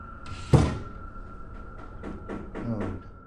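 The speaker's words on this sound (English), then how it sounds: "Then things come full circle when they hear knocking once again." Several soft knocks on a door in a dark room, one sharper thump first then a few muffled raps spaced apart, with a steady electrical hum underneath and faint murmuring voices.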